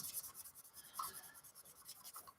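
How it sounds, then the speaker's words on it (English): Sanding a seam line on a 1/24 Airfix Spitfire Mk Vb plastic model kit, a quiet, close, continuous light rubbing rasp with uneven strokes and no talk. "as I'm sanding that back, I'm getting a bit of seam line up here"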